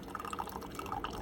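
A Keurig coffee maker pours coffee in a steady trickling stream with small dripping plinks, close and fairly quiet.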